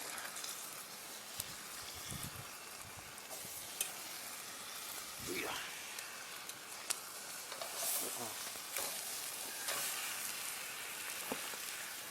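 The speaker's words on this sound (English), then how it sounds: "I'm just going to reheat the steak pan." A steak pan being reheated sizzles and hisses quietly on the stove, with occasional clinks and soft rustling, fairly faint and steady.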